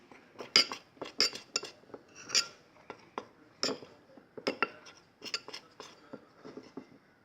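A spoon clinks and taps repeatedly against a bowl while cornstarch and liquid soap are mixed into a dough, with irregular close bursts of scraping and clinking and no talking.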